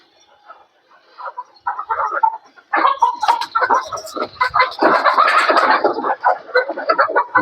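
A flock of Fayoumi chickens on a rooftop farm clucks in scattered bursts that start soft and grow into a louder, denser chorus of nearby birds.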